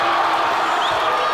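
A dense, steady roar of an excited crowd cheering at a Pacific Games boxing bout, continuous and loud throughout with no pauses.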